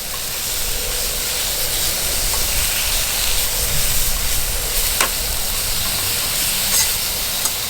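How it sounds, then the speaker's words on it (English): Wind gusts across an outdoor camp cooking site, a loud, steady broadband rush with faint crackles underneath, continuous throughout. "You can tell we got some wind going here."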